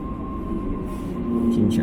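A Jinshan Railway train pulls into Jinshanwei Station in Shanghai, a steady low rumble of rolling stock with a faint tonal hum, growing slightly louder near the end as the train slows.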